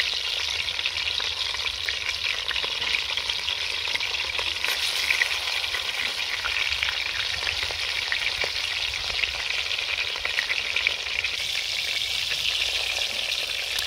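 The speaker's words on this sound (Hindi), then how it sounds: "कबाब हमारे माशाल्लाह ज़बरदस्त फ्राई हो रहे हैं" Seekh kebabs frying in a handi over low heat give a steady, even sizzle and crackle that runs unbroken throughout, fairly close and alone without any voices.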